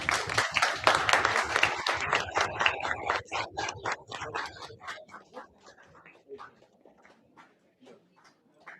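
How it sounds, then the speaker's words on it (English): An audience at a fashion lab pitch event applauds a team called to the stage: dense clapping at first that thins into scattered, fading claps over several seconds. "Big round of applause, guys, for them."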